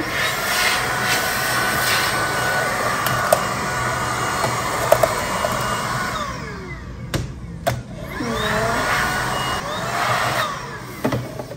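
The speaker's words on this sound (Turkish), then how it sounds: "Bu şekilde bilgisayarımızın klavyesini bile her yüzeye yüzeyen dediğim gibi bu süpürgeyle temizleyebiliyorsunuz." A cordless vacuum cleaner runs steadily up close while cleaning a computer keyboard, with a constant whine broken by brief clicks and knocks as the nozzle moves over the keys.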